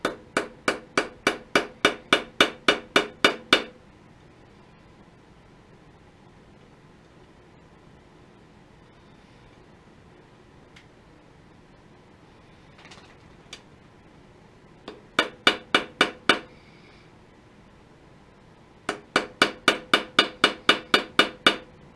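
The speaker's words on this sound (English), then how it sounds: "it says to tap lightly with a hammer and turn counterclockwise." Rapid bursts of sharp metallic tapping from a hammer lightly striking the back gear lever of a Pratt & Whitney machine, a dozen quick strikes at a time, separated by quiet stretches with a few isolated clicks.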